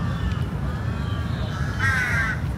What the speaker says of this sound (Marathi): हे बघा काय दिसले, कावळे बघा केवढे मोठे आहेत.